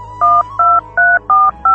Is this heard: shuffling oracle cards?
no